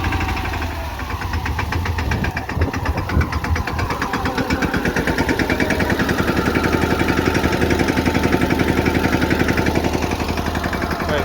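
A farm tractor engine runs steadily and loud, with a rapid knocking diesel rhythm throughout, close by and alone without voices.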